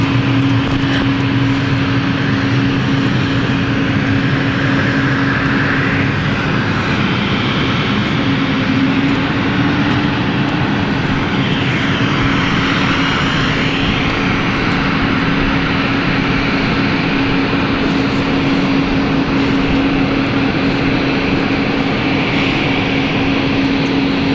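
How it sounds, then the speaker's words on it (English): Embraer E195-E2 jet taxiing at London City Airport, a steady loud engine drone with a sustained whine running throughout, no talk. "here is the Embraer E195-E2 now taxiing and ready to depart"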